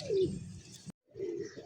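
Pure white pigeons with feathered feet coo close by: one throaty coo, a brief silence, then a second softer coo.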